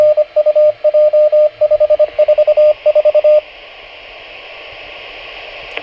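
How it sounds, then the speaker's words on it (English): A GMRS repeater's beacon plays over a radio as a rapid run of short, evenly pulsed beeps in quick groups, then gives way to a steady wash of static hiss. "it'll play the beacon and it'll sound like this"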